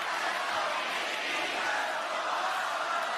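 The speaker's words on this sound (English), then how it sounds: "Can hear this crowd." A large WWE wrestling arena crowd roars steadily throughout a match, a dense wash of cheering and shouting with no pauses, loud and continuous.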